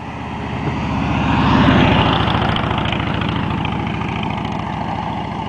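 A motorbike passes on a foggy Blue Ridge Parkway road, its engine drone swelling to a peak as it goes by and then slowly fading into the distance, with no talk.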